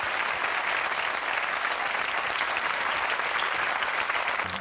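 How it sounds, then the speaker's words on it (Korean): Loud, dense applause from a studio audience at a KBS television show about the Army Third Military Academy, sustained and even from start to finish. "박수 한번 보내주시기 네."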